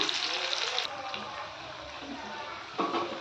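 Onions sautéing in a pan for a Tamil chicken curry, a crackling sizzle with a few clinks, steady and moderately close, softer in the middle and rising again at the end.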